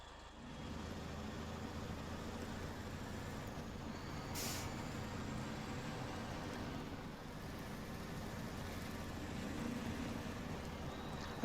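Heavy truck engine in SnowRunner running at a steady low idle-like rumble, moderately quiet and continuous, with a brief hiss burst near the middle.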